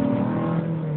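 Nissan Skyline R34 accelerating on EDSA, a steady droning engine note with a clear sustained tone, fairly loud and close, no talking.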